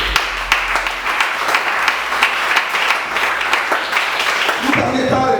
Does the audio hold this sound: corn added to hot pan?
no